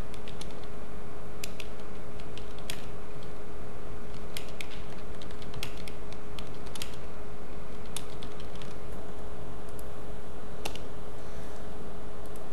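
Typing on a computer keyboard while setting up a page footer in a document layout program, heard as scattered, fairly faint key clicks in irregular bursts over a steady low hum, with no one talking.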